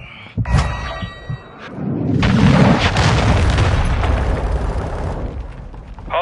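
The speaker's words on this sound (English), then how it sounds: "Hostiles launched a cruise missile." A cruise missile explodes in the video game Warzone 2.0 with a loud, sustained booming blast that rumbles for several seconds after a few short clicks and pops.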